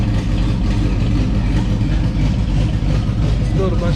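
A rough, project Mustang with a lumpy cam and a new fuel cell idles loudly up close, its low engine note throbbing with an uneven, choppy rhythm throughout.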